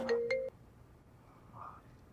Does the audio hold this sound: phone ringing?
yes